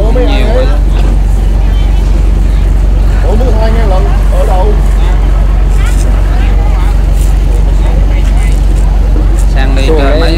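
A small boat fitted with an oversized engine runs nonstop with a loud, saturated roar. Excited voices talk over the engine for much of the time.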